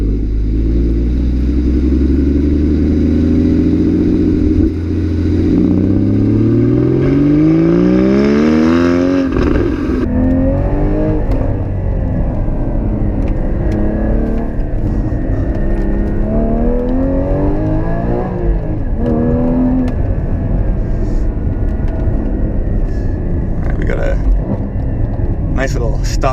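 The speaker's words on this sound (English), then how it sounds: "we can listen to that flat six sing" A Porsche 981 GT4's flat-six engine revving on the move, loud and close, climbing repeatedly through the gears with rising pitch sweeps, a shift lull midway, then further pulls and a sustained roar.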